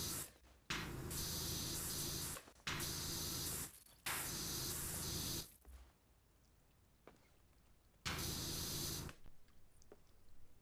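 Pressure washer spraying in PowerWash Simulator 2: loud, broadband hissing bursts of about two seconds each, separated by short silences, then a quieter stretch with faint clatter before one last burst.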